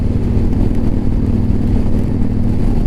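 A 2015 Victory Vegas 8-Ball motorcycle's engine while riding in a high gear, a loud, steady low rumbling drone that holds constant throughout, close up, with no talking over it.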